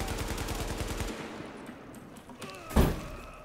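Rapid automatic gunfire rattles in a steady burst in The Division, then drops back to quieter game ambience before one sharp, loud shot or impact cracks near the end.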